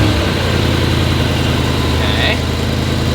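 A Mercedes car engine, recently repaired for a rattle, idles steadily and close. It gives a loud, even rumble with no breaks.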